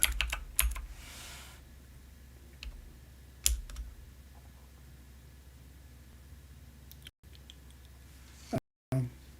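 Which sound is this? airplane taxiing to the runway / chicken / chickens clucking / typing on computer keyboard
typing on computer keyboard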